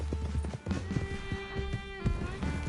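Horse hooves clip-clopping along in a video game, a fairly close, steady run of hoofbeats with faint background game ambience.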